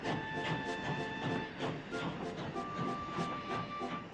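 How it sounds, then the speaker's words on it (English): Steam locomotive letting off a breathy hiss of steam with faint whistle tones, steady and fairly close throughout. "So with a wheesh of steam, Gordon went to help Derek."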